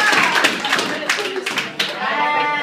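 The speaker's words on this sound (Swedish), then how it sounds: "stor applåd." Big applause from an audience at a boxing-style bout between Sam Isaak and Ivan the Russian, dense broadband clapping sustained throughout with crowd voices mixed in.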